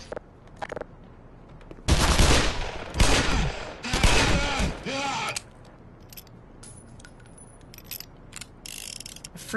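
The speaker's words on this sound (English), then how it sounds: "Freaking machine gun's a piece of crap." Machine gun fire in the video game Black Mesa, dense sustained bursts of loud rattling shots in two long volleys with shorter scattered shots and clicks around them, up front and alone.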